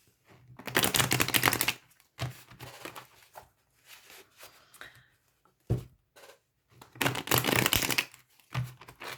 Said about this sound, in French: Alors, je remélange les cartes, hein.